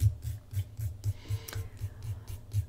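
A fingernail worked with a nail file in short, sawing back-and-forth strokes, giving a close, quiet, steady rasping rhythm of about four strokes per second.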